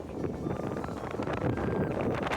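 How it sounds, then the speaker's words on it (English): Strong wind gusts buffet the microphone with a loud, constant rumbling roar and no pause, on Taiwan's east coast during bike touring. "It's still really windy."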